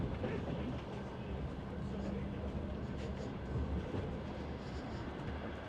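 Passenger train travelling from Astana to Burabay in Kazakhstan, a low continuous rumble of the carriage rolling on rails with a dense broadband roar, heard from inside at a fairly even level.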